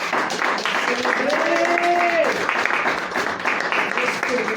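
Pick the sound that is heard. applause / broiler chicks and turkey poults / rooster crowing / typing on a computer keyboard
applause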